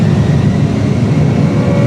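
Engines of an A320 airliner during the takeoff roll, a loud, steady, broadband roar with deep rumble, continuous and alone, apparently heard inside a cockpit or flight simulator.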